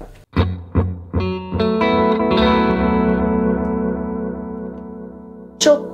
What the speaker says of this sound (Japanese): じゃあテープエコーどんな感じになるんでしょうか